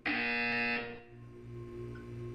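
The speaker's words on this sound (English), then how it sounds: "You will hear a buzzer." A loud, steady electronic buzzer in the video game Portal 2 sounds for under a second and then cuts off, leaving a low hum and faint background tones.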